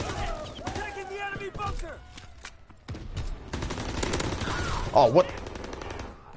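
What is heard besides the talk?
gunfire from a gun in the video game WW2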